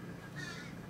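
A crow caws once outdoors, a single harsh call at moderate distance over a steady background hiss.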